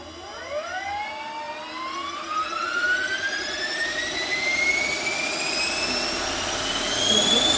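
Rotor and electric motor of a Roban MD500 RC helicopter spinning up, a whine that climbs steadily in pitch and grows louder over several seconds, close by, with a rising whoosh of the blades underneath.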